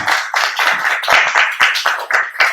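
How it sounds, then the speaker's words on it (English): A small audience at a political campaign event gives a short round of applause, close and fairly loud uneven hand claps lasting a few seconds. "So I just want to give another round of applause."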